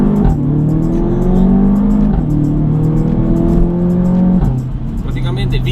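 An Audi TT mk3 (8S) with a Stage 2 tune making 300 hp accelerates hard, its engine note climbing loud and close through the revs, dropping briefly at a gear change, then pulling again.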